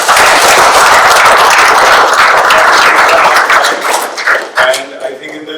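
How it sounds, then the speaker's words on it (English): Loud, close applause from a seated audience at a real estate business conference, dense clapping that thins and tapers into scattered claps near the end. "Round of applause."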